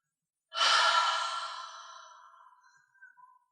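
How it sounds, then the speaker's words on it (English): A person lets out a single long, deep exhale during a yoga session, a close breathy rush that starts strongly and fades away over a couple of seconds. "Nice exhale"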